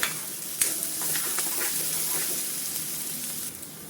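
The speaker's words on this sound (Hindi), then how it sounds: "इन्हें 1 से 2 मिनट तक भूनेंगे।" Stuffed bitter gourd (karela) fries in a pan with a steady close sizzle and crackle, while a spoon stirs and scrapes a few times, with no voices.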